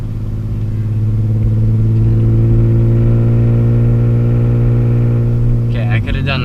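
A car engine revs steadily at high load as the driver goes up through the gears on a road test of aftermarket sway bars, loud and close, then dips briefly and picks back up with a short burst near the end.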